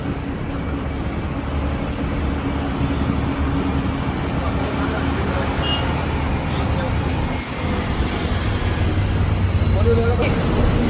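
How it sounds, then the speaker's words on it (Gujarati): Dense Mumbai street traffic near Bandra, a constant loud roar of cars, buses and engines with a steady low hum and occasional passing swells, people talking over it. "આ છે બોમ્બે નું ટ્રાફિક"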